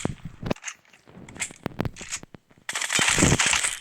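Gunfire in a video game shooter: sharp, separate shots spaced irregularly across the first part, then a dense, loud burst of rapid fire near the end, with no talking.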